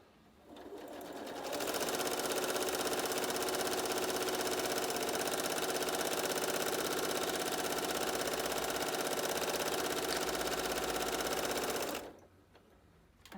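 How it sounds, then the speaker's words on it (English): A sewing machine stitches free-motion stippling on fabric, running loud and fast for about ten seconds as a dense, steady mechanical whir, then stopping abruptly. "the machine is very loud with this setting, so I'm going to stop now and reposition"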